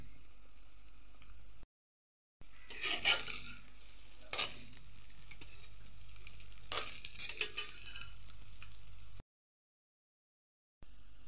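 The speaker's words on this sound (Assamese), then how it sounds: "এয়া তেল গৰম হৈছে, মই তাতে দি দিলোঁ।" Bhedailota fritters (pokori) hit hot oil and fry, giving a steady crackling sizzle with bursts of bubbling and a few stirring scrapes, cut by short silent gaps.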